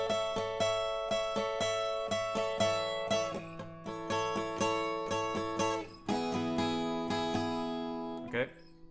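An acoustic guitar plays the up-the-neck part of a song, with steady picked notes ringing over each other in a close, even rhythm, ending on a brief scrape.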